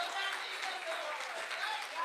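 Faint, steady applause from a gathered audience, a soft continuous wash of clapping with voices mixed in.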